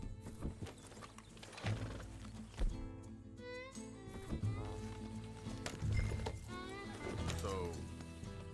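Horse hooves clip-clopping in Red Dead Redemption 2, a steady run of hoofbeats at moderate distance blended with game ambience, tack rattles and scattered background sounds.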